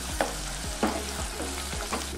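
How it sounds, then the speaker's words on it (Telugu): Onions, slit green chillies and curry leaves frying in hot oil with whole spices for a potato curry, a dense close sizzle broken by a few stirring scrapes. "మసాలా దినుసులు వేగిన తర్వాత ఇందులోకి ఉల్లిగడ్డ వేసుకోవాలి, 2 పచ్చిమిర్చి చీలికలు,"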